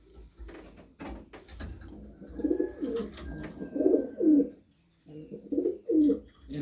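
Racing pigeons in a loft give repeated low, throaty coos in rolling bursts, close and fairly loud, with a few light clatters and rustles between calls.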